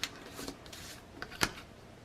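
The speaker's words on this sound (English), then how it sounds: "several passes with my craft knife. And we're going to cut through both sides at the same time." A craft knife slices through photo mat board along a thick plastic ruler. A few short, quiet scraping strokes are spaced apart, with the sharpest one near the end.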